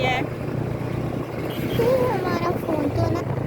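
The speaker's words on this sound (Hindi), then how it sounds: "बाइक हमारी बहुत तेज़ चल रही है।" Motorbike riding fast through a city market area, a steady roar of wind buffeting the microphone throughout, with some faint chatter mixed in.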